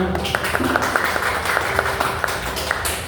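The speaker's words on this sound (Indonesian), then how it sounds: "Tepuk tangan." Applause from an audience at an elementary school event in Garut, a steady burst of clapping with scattered sharper claps, fairly close and even in level, with some faint background tones mixed in.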